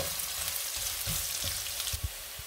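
Garlic fries in a pan toward golden brown, giving a loud, steady hiss of sizzling oil with a few soft low thumps from stirring; no voices.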